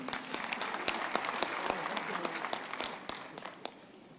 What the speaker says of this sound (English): I think that needs another applause for Mr. van Schalkwyk